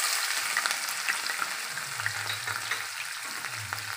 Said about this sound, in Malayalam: വെളുത്തുള്ളിയും കൂടി ഇട്ട് ഒന്ന് വഴറ്റി കൊടുക്കാം.